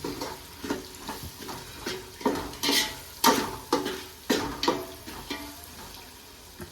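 Mutton masala and Kitchen King masala stirred in a frying pan with a sizzling base, the spatula scraping in repeated rhythmic strokes, close and clear with no talking.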